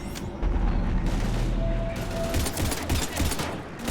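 Heavy gunfire in Mass Effect 3 rattles out in dense, continuous bursts mixed with booming impacts, loud and close, as a voice speaks briefly under the firing.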